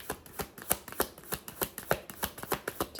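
Cards drawn from a life and career deck make a rapid series of crisp flicks and slaps, about a dozen sharp ticks in quick irregular rhythm, close and alone.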